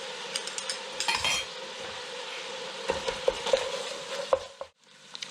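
Minced garlic and half a red onion fry with browned hamburger and sausage for lasagna, a low sizzle under sharp spoon scrapes and clinks against the pan, with a brief pause near the end.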